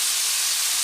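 Caramel and marinade juice poured into a hot pan while cooking caramelised pork ribs: a loud, steady, bright hiss that holds for under a second, with no voices.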